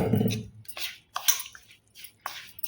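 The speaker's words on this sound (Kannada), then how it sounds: "ಈಗ ನೀರು ಹಾಕಿ ಕಲಿಸ್ತೀನಿ ನೋಡ್ರಿ." Flour dough for kadubu is mixed with water by hand, giving close, wet squelching squishes in four or five separate bursts with short pauses between them.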